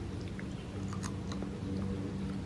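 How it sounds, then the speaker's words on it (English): A child chews crunchy cucumber close up, with a few soft crisp bites over a low steady background hum. "Cucumber for the win. It's crunchy."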